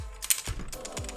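A loose AAA battery inside a UV flashlight with no casing rattles and clicks in a few quick, faint knocks, close up.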